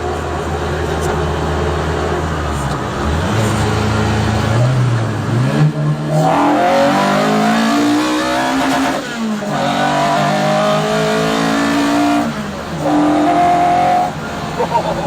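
A Harris-powered Mk2 Ford Escort is heard from inside, its engine screaming through hard acceleration with rising revs, sharp drops at each gear change and repeated climbs, loud and close throughout.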